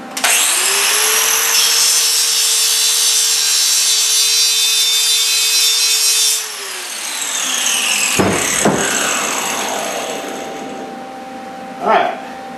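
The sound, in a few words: grinding paint off a propane tank before welding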